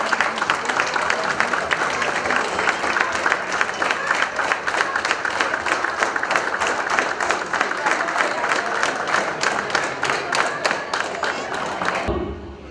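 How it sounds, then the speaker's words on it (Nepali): An audience at a Rotary club installation ceremony stands and gives sustained, loud applause to welcome a speaker, with dense continuous clapping and a crowd murmur that stops abruptly near the end. "सम्पूर्णलाई एकपटक उठेर जोरदार तालीले उहाँलाई स्वागत गरिदिनु"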